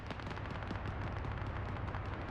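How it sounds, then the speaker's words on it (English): Sustained gunfire in a video game battle, a dense continuous rattle of rapid shots at steady loudness throughout, with no pauses. "there is still some gunfire suppressing them coming from Terminal 2"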